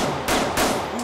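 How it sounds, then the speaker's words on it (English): Gunfire in a Grand Theft Auto IV mod, two or three sharp, loud shots in quick succession with a brief tail after each, and no talk over them. "I just shot him."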